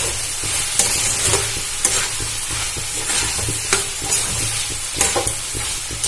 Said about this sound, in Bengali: আবারও এটা ভালো করে নাড়াচাড়া করে ভেজে নেব